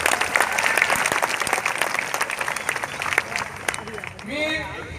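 A crowd of protest marchers at a Dalit-Muslim unity rally in Parbhani claps together in a dense, loud burst of applause that gradually thins out, with a voice over a loudspeaker rising near the end.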